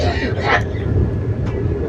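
A steady, loud rumble of a moving Vande Bharat train between Raichur and Bengaluru, with a constant low roar and rattling throughout.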